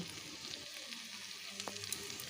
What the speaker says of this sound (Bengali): এখন ভালো করে সমস্ত মশলাগুলো একসাথে কষিয়ে নিচ্ছি